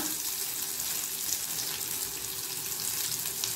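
Curry leaves dropped into hot oil with garlic, a steady crackling sizzle close up, alone without talk.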